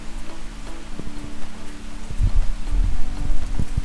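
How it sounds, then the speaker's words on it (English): Steady rain falls across a rural Alabama farmhouse property, a soft even wash of drops with occasional louder patters on nearby surfaces, continuous and moderately close with no one talking. "It's raining here in Alabama."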